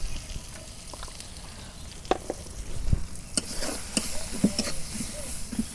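Spices with onion, turmeric, chili powder and salt stirred and sautéed in a pan for a village-style rohu fish curry: soft scraping stirs and light sizzling, with a few sharper utensil knocks, close and moderately quiet.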